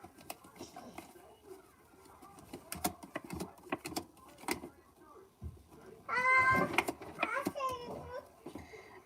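Cat meowing in a Peppa Pig commercial: a loud, drawn-out run of meows near the end, following quieter clicks and clutter, with a voice and chatter mixed in.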